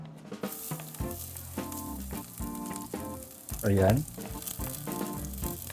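Garlic sautéing in hot oil for a seafood sinigang with bangus belly, shrimp and mussels, a steady close sizzle that swells louder as the garlic hits the pan, under someone talking.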